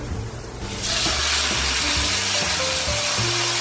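Salmon dropped into a pan of melted butter and garlic, a sudden jump into loud, steady sizzling after a quieter start, close up, no speech.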